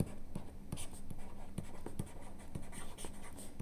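A pen writes out a maths equation on paper, with soft, close scratching strokes and light taps that run steadily for a few seconds under a faint background hum.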